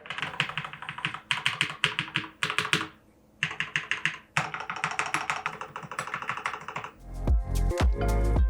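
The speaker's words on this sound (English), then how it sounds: "I decided to do a sound test on my budget keyboard that I had for a while now." Typing on a budget mechanical keyboard fitted with new switches comes in fast bursts of close, crisp clicks and clacks, broken by short pauses, ending in a few heavier thumps.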